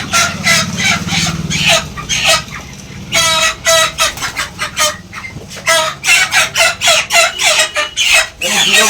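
Poultry chickens at a market stall clucking loudly and repeatedly up close in quick choppy bursts, with a rooster-like crow among them and faint human voices underneath.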